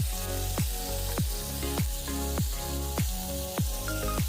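Butter melts down into ghee in a hot pan, a continuous close sizzle broken by rhythmic bursts that repeat about every half second, with no talking.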